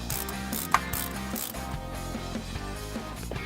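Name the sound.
ratchet tightening throttle cable and return spring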